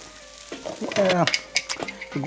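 Curry gravy frying and being stirred in a pan with cumin, coriander and coconut milk, soft sizzling broken by scraping stirs, with a voice talking over the cooking.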